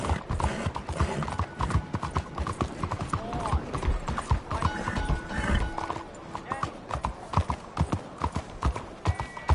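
Horse hooves clip-clop in a steady galloping rhythm in the Red Dead Redemption 2 video game, with occasional whinnies and game dialogue voices mixed over the hoofbeats.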